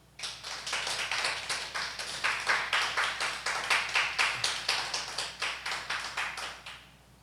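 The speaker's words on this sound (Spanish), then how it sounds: "Vamos a darle un aplauso a Jesús." A church congregation claps in praise of Jesus, a steady run of dense, fairly close applause that holds for several seconds before trailing off at the end.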